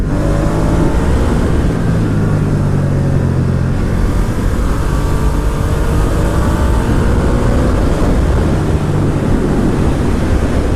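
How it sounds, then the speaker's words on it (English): A 2019 Ducati Diavel 1260S motorcycle ridden over a bumpy road, a loud continuous engine drone buried under heavy wind roar on the microphone, with no talk. "Right, let's try this bike out on some of these bumps to see how it feels."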